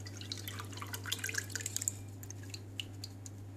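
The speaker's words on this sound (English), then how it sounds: "add in your pulp water into the sugar water" Mango pulp water is poured into sugar water, giving faint, close liquid trickles and drips over a low steady hum.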